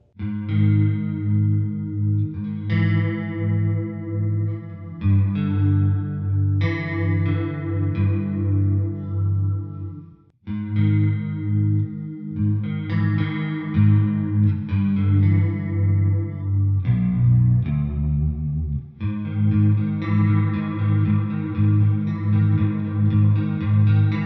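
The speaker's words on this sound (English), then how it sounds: "use the coil tap and go into the single coil position, and it just sounds haunting" Electric guitar, an Epiphone Les Paul Custom Pro coil-tapped to single-coil, with a thin tone through chorus and light distortion, chords ringing with echo in a slow, moody progression.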